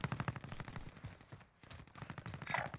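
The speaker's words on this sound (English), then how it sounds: "Loads of shooting across the way." Rapid bursts of automatic gunfire in Call of Duty Warzone, a steady chattering rhythm of shots at mid distance that runs through the whole stretch with only a brief lull.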